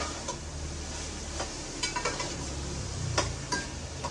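Bean sprouts sautéing in a pan give a steady soft sizzle, with a metal spatula scraping and clinking against the pan in scattered strokes close by.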